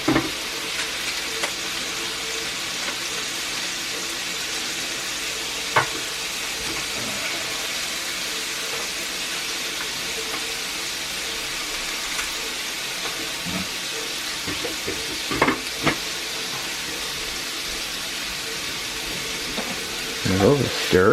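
Vegetables stir-fried in a cast iron pan for ramen yakisoba, a continuous close sizzle lasting throughout with occasional clanks and scrapes of the utensil, while a person talks intermittently over it.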